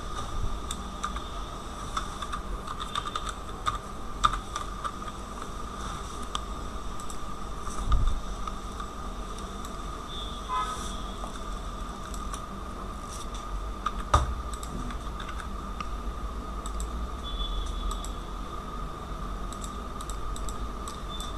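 Soft, steady typing on a computer keyboard, a continuous patter of faint key clicks with a few louder taps, heard up close over a low background hiss, with no talk.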